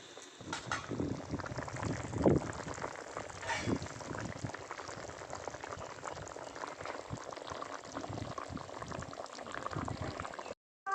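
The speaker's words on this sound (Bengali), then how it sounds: "জল ভালো করে ফুটে গেছে এবার ভেজে রাখা মাছ দিয়ে দেবো" Fish curry broth boiling in a pot, a steady close bubbling and gurgling that runs throughout with no talking.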